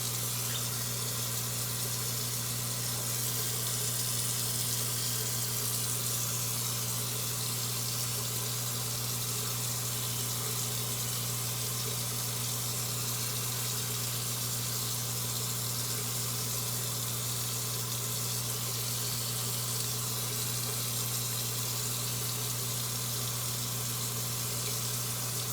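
Water from a bathroom sink tap runs steadily while hands are rinsed, a constant close hiss with a low hum underneath and no talking.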